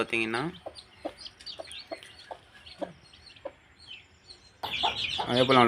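Soft, repeated clucking from a hen with newly hatched chicks, with short calls spaced across the middle stretch, framed by louder, fuller sound at the start and end.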